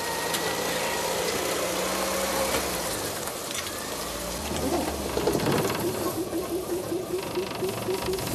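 A coach engine in a 1979 film scene starts up and settles into a rumbling idle, with mechanical clanks and a ratcheting rattle, loud and close throughout.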